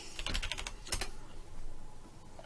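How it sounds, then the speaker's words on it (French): Typing on a computer keyboard, a quick run of crisp close key clicks in the first second followed by quieter room tone and a faint last tap. "Je vais taper clavier."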